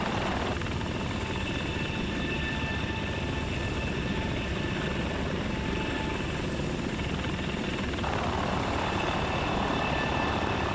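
Helicopter rotor and engine drone from a FlightGear flight simulator game, flying a coastal tour off France. The sound is steady, loud and broadband, with a thin whine riding on top that shifts partway through, and no voices over it.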